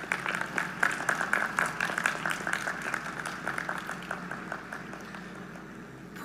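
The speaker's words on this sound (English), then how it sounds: "May we give them a round of applause." An audience at a university commencement ceremony applauds with steady, moderately loud clapping that gradually thins out and fades toward the end.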